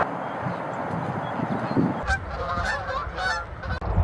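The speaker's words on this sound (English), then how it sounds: "There's so many birds out here today." Goose-like honking birds call outdoors at sunrise, a quiet breezy background giving way to a burst of repeated nasal honks from a nearby flock.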